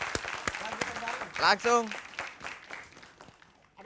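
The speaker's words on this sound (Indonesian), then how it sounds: "Ya tepuk tangan buat Bang Megi Z." Scattered clapping for Meggy Z on a comedy and dangdut stage show, with a voice briefly speaking over it partway through before the claps thin out.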